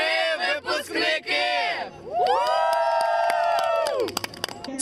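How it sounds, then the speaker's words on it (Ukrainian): Large crowd of school-leaving eleventh-graders in a main city square shouting in unison, drawn-out chanted cries with a long sustained yell, followed by scattered cheers and whoops. "Цьогоріч ці слова вигукнули півтори тисячі одинадцятикласників"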